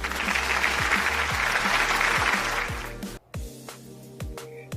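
Audience applause welcomes a guest, Miss Pearl Janine Caliedo, onto a show: a dense, steady burst of clapping for about three seconds with a low rhythmic hum beneath, then cutting off to a few scattered, fading claps.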